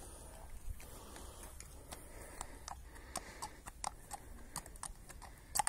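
Horse hooves clip-clopping at moderate distance outdoors, a fairly steady series of sharp knocks over background noise with no talk.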